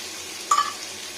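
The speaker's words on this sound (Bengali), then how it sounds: "তেল গরম হয়ে গেছে। এবার দিয়ে দেবো সেই পেঁয়াজগুলো।" Small crushed shallots drop into hot oil for an egg curry, giving a soft sudden onset and then a steady, quiet sizzle that carries on alone.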